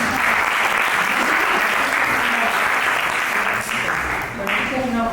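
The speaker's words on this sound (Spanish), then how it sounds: "Un fuerte aplauso para todos." An audience claps at a talk on true love. The applause is sustained and dense, holding steady for several seconds and dipping slightly near the end.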